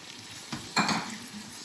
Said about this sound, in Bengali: এখন ভালো করে মাটনগুলোকে কষিয়ে নেব